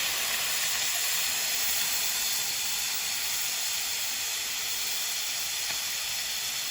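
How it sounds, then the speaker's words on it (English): Steam hisses steadily from the pressure release valve of an Instant Pot cooking chicken wings, a loud, continuous broadband rush that holds level for the whole stretch without pause. "we're going to continue to let this go until the steam is pretty much stopped coming out"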